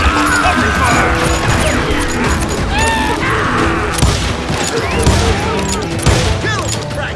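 Sustained cover gunfire rattles through a Call of Juarez Gunslinger shootout, dense overlapping shots and crashes filling the whole stretch, with shouting voices mixed in.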